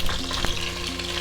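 Green chillies sautéing with ginger and garlic in a pan for mutton kurma, a steady close sizzle with a faint stirring scrape, no voices.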